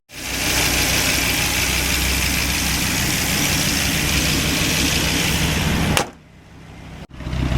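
A 2003 Dodge Viper SRT-10 V10 runs loud and steady at a rumbling idle for about six seconds, close by, then cuts abruptly with a brief burst after.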